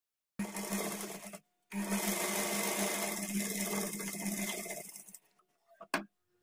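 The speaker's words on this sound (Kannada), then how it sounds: "ಈಗ ಆರ್ಮೋಲ್ ಕಡೆ ಡಾಟನ್ನು ಸ್ಟಿಚ್ ಮಾಡ್ಕೊಳ್ಬೇಕು" Sewing machine stitching folded darts at a blouse armhole on a quarter-inch margin: a short burst, a brief stop, then a longer steady whirring run that fades out, followed by a small click.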